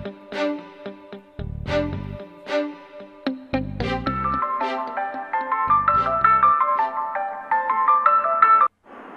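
A loud electronic phone ringtone plays a repeating melodic tune, close and clear, cutting off abruptly near the end.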